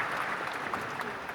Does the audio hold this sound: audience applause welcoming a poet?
yes